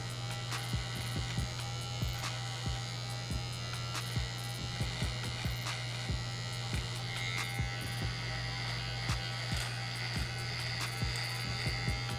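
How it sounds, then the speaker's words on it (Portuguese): An electric finishing trimmer at a barbershop cleans up the lower beard line, a steady close buzzing hum running throughout with faint rhythmic ticks and clicks as it moves along the skin. "com a máquina de acabamento já vou limpando bem, que isso é importante"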